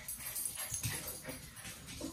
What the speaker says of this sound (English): She's a hyper dog, I think.